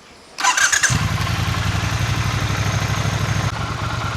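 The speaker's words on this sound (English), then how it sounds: "and then to start the bike" A Triumph Bonneville T120 motorcycle's engine cranks briefly and fires up, then settles into a steady, loud, close idle with a rhythmic low pulse and no talking.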